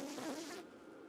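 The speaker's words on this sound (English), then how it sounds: "all the bees seem to be mainly down that end." Honeybees from a tiny colony nesting inside a bird box hum in a close, steady buzz that cuts off abruptly partway through.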